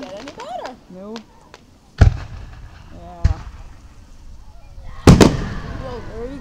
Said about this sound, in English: Sparklers.